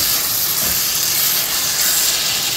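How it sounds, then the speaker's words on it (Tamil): Tomatoes and onions for a crab curry sauté in a hot pan, giving a steady close sizzling hiss that runs on alone without any break. "ஸோ தக்காளியை ஆட் பண்ணிவிட்டு நல்லா வதக்கி விடுங்க."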